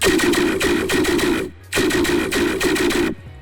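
Harsh, heavily distorted tearout dubstep bass loop pounding in dense bursts, cutting out briefly halfway before slamming back in, loud with no talking.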